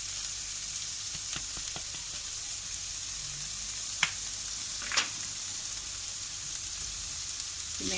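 Cabbage sautéing with onion and garlic in oil in a pan, a steady bright sizzle throughout with a few sharp clicks and stirring knocks, close and alone.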